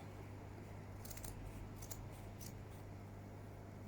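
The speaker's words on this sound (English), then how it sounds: "The satisfying sound of the scissors." Faint, quiet snips of scissors cutting elastic, a few short crisp cuts in quick succession around the middle, over a steady low hum.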